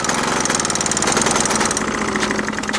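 A VeloSolex 3800 moped engine runs loud and close after being pedal-started, a rapid buzzy put-put that stays steady throughout.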